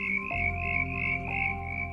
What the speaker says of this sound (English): We should be hearing green tree frogs croaking